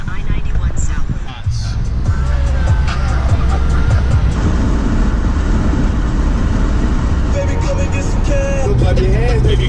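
Steady road rumble and engine drone from inside a Toyota Camry moving on a highway, with passing vehicle noise and someone talking over it.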